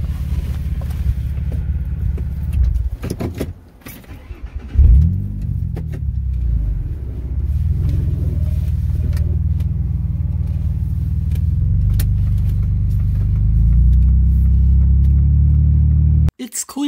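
A car pulling away from a roadside traffic stop, its engine rumble rising as it accelerates, while a low road drone runs throughout.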